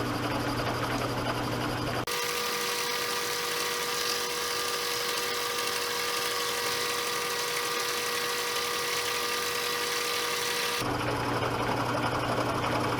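A milling machine on a Reid surface grinder runs at 660 RPM with a steady, loud mechanical drone and high whine, shifting to a brighter, harsher cutting tone for several seconds midway before returning.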